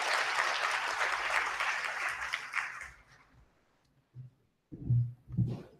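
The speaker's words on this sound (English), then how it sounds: "A big round of applause." Audience applause at an IIMC orientation program, a dense burst of clapping from a crowd that fades out after about three seconds, followed by a few low muffled thumps.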